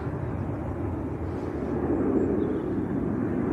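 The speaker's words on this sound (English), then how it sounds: "Wow, that was a long takeoff." A plane taking off in the evening at Leeds Bradford Airport gives a steady, loud, broadband jet roar that swells slightly toward the end, with no voices over it.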